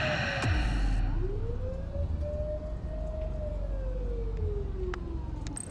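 In the video game The Precinct, a police car siren rises out of a loud burst of game noise, swells and then slowly falls, droning steadily over low engine rumble.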